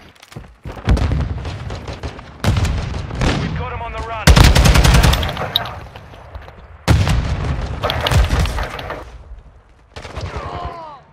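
Gunfire in the video game Modern Warfare 2, with several bursts of loud, close shots and booms separated by short gaps, mixed with players talking excitedly.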